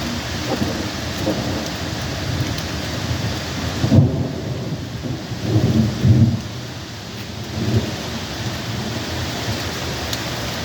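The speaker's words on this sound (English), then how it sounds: "Well, we got a little more thunder." Low thunder rolls and swells through a steady rainstorm, with wind pushing leaves from the trees; the rumble builds in several heavy bursts over constant rain hiss, with no voices.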